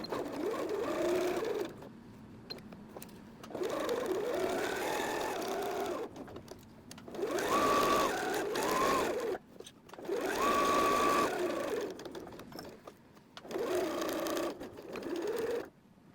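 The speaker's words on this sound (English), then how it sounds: "We're sewing all the way around, except for a little space in the bottom." Sewing machine stitching around a tea towel apron with a 3/8 seam allowance: loud, close whirring bursts of several seconds each, separated by brief pauses, with no one talking.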